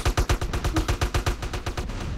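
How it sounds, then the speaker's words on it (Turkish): Rapid gunfire and explosions from GTA San Andreas multiplayer play loudly, with about a dozen sharp evenly spaced bursts in quick succession and no voices. "bombalar patlıyor"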